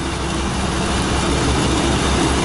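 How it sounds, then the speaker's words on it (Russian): A Kirovets K-525 tractor engine runs without load, giving off a loud, steady, dense hum and drone close by, with no voices. "Вот неужели трактор без нагрузки должен вот так гудеть?"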